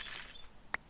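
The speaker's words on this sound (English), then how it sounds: "it makes a glass breaking sound" Glass shatters in modded Minecraft, a short, faint, crisp tinkling burst followed by one sharp click, with no talk.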